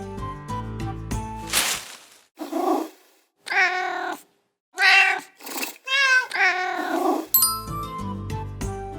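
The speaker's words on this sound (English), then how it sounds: "It's a cat." A domestic cat meows several times in a row, clear and close, in short separate calls with pauses between them, set between bursts of bright musical backing at the start and end.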